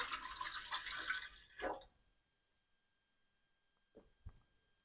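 A brief burst of liquid splashing and pouring, then quiet, followed by a couple of soft drips or clinks near the end.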